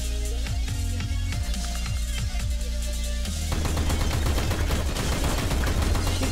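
Gunfire rattles through a Counter-Strike: Global Offensive match, starting with several spaced single shots and then becoming a dense, continuous burst of rapid fire that stays loud throughout, with no voices.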